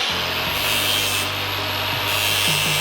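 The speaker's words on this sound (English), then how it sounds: "So I've just got to grind that edge." A power tool grinds a metal edge during brake work on a Gemini car build, making a loud, close, continuous harsh rasping roar with a bright hiss that holds for about three seconds without talk.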